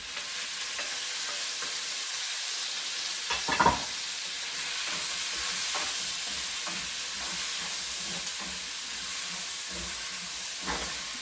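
Tofu fries in a basket in hot oil, a steady, continuous sizzling hiss throughout with a brief clunk partway through.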